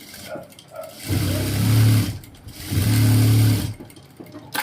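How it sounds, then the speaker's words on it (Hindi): An electric sewing machine stitching trouser fabric, running in two steady bursts of about a second each with a brief pause between, close and loud, with soft handling noises before and after. "इसको पकड़ के हम ऐसे इस पे हम एक सिलाई मार देंगे"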